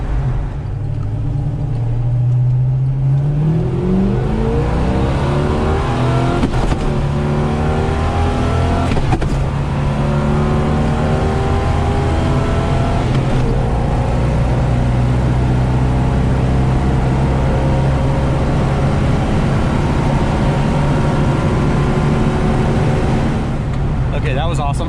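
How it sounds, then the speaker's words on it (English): A stock 1972 Pontiac GTO with a 400 engine and four-speed manual pulls hard through the gears, loud engine rising in pitch with each gear and dropping at the shifts, the sweeps repeating steadily over about twenty-five seconds. "Get out here a little bit and I'll run through the gears."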